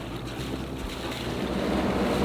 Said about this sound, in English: Unfortunately we're having to motor, so Matt's a bit grumpy